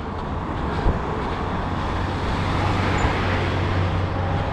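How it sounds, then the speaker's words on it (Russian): Steady roar of road traffic along the Sochi embankment on a Saturday, cars passing continuously with a low broadband rumble, no voices over it. "машин у нас много, и это суббота, все куда-то едут."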